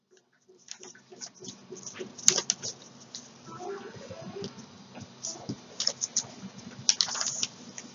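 Paper being folded into a mask gives off light crinkles and crisp creasing snaps in irregular bursts, close and fairly quiet, with brief pauses between handlings.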